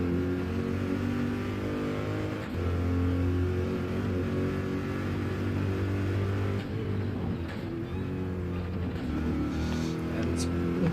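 Onboard a Corvette GT race car at Road Atlanta, the engine drones loud and steady with strong harmonic tones, shifting and easing briefly, while a commentator talks over it.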